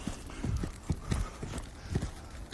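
Repeated heavy foot stomps putting out a small fire started by fireworks, landing in an irregular rhythm of thuds at close range, with no talk over them.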